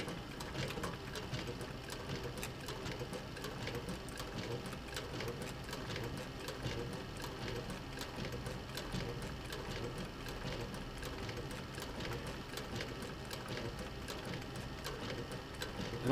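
Sewing machine stitching a leather bag's front pocket with roughly 1/8-inch stitches, a steady, continuous mechanical whir and rapid ticking running evenly throughout at moderate, close level.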